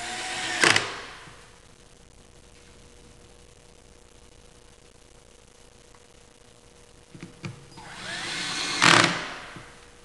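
A power screwdriver drives screws into a Compaq server rack slide rail. It gives two short, loud whirring bursts close by, far apart, with near silence and a faint click in between.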